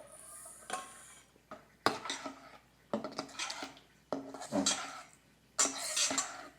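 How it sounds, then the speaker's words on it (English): Dry ingredients including pork rind flour being mixed into a keto pumpkin muffin batter in a bowl, with intermittent scraping and clinking spoon strokes in separate bursts, fairly quiet and close. "Now we add the dry ingredients to this, and we mix it well."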